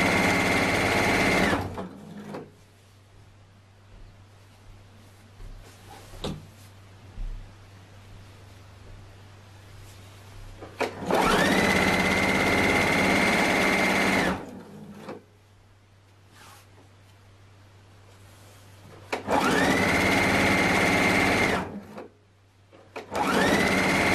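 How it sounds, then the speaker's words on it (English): A sewing machine stitching the edges of a dress in bursts of several seconds each, loud and close, with quiet pauses between runs. "Very comfortable sewing machine."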